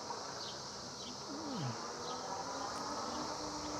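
Cicadas in the trees overhead give off a steady, faint, high-pitched drone that continues without a break, with a brief whistle-like sweep partway through.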